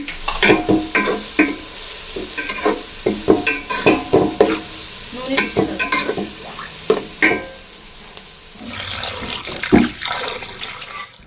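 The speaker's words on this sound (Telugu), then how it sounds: "బాగా ఉల్లిపాయ ముక్కలు గోల్డెన్ కలర్లోకి వచ్చేంత వరకు వేయించుకోవాలండి" Chopped onions and green chilies frying in oil in a home kitchen, cooking toward golden, with repeated clattering stirs over a steady sizzle and a louder hissing burst near the end; no one speaks.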